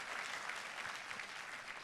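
A church congregation claps in dense, sustained applause, heard evenly from a distance for a short burst with no talk over it.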